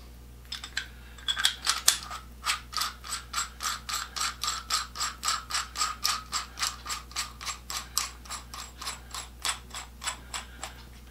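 Ratchet head of a Pexto 8014 brace being assembled: a long, steady run of evenly spaced metallic clicks from the pawl, close and crisp, with no voices.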